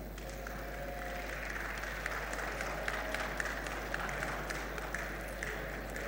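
Audience applause at a university congregation ceremony in Ghana, the CKT-UTAS graduation, heard as steady, moderately distant clapping from a crowd that runs throughout the clip.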